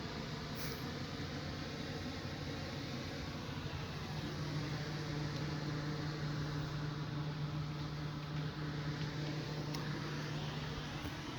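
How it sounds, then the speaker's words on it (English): Repaired Cub Cadet lawn mower engine running steadily after an engine stall problem was fixed, a constant, even mechanical drone with a fixed hum, fairly faint and unbroken, with no talk over it. "now the engine runs better"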